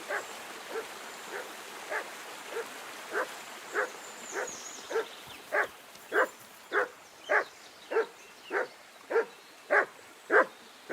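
A dog in the medieval game Kingdom Come: Deliverance II barks repeatedly, about eighteen evenly spaced barks that grow louder and closer over the span, with no voices.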